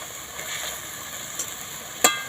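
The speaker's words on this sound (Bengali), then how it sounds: "দিয়ে আরও একবার ভালো করে নেড়ে নিচ্ছি" Pointed gourd masala, thinned with cashew paste water, is stirred in a frying pan, a faint sizzle under a few scraping strokes and a sharp clack of the spoon near the end.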